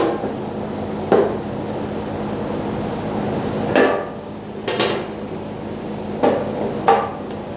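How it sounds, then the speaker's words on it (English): Five sharp metallic hammer blows strike a brass punch to loosen the fuel pump lock ring on a 5.4L V8 Ford E-350 Super Duty fuel tank, spaced irregularly and close against a low steady background hum. "Now we have to use a punch and a hammer to loosen up the lock ring holding the fuel pump on."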